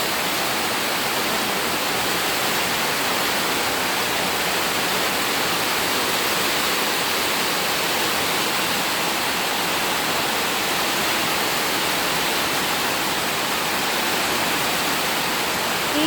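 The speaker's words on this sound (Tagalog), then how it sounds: "magdamag po talaga ang ulan. Oh. Lakas ng ulan." Heavy overnight rain in a flood-prone area pours in a steady, dense roar that never lets up, loud and close, with no voices over it.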